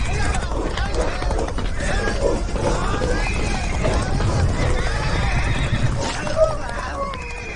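Horses whinny and neigh amid hoof clip-clops in a scene from the Malayalam film Aadu 3, with voices talking over the busy, steady mix throughout.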